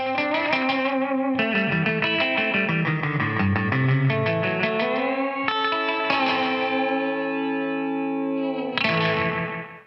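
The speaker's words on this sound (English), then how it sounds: "if I move up the echo volume even more, you start to get even more of a sprongier sound" Guitar run through a Boss RE-20 Space Echo with the echo volume turned high, giving a springy slapback repeat that trails each note, with a sustained ringing tail at the end.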